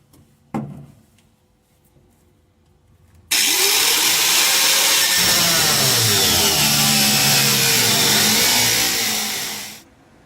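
A power cutting tool bites into the steel floor panel of a 1956 Studebaker Hawk after a single knock, roaring loud and continuous for several seconds with a shifting pitch before spinning down.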